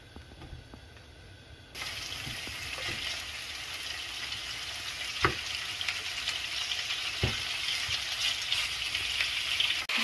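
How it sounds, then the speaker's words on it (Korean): Chicken drumsticks, scored and seasoned with salt and pepper, frying in oil in a pan: a steady close sizzle that swells when the meat goes in, with a few sharp pops and crackles and no talk. "기름을 두르고 구워줍니다"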